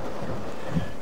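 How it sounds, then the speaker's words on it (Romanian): Rain setting in outdoors in Tel Aviv, Israel: a steady, fairly loud wash of broadband hiss with soft low rumbling underneath, continuous for the full second and no voices. "și uite, a venit și ploaie acum"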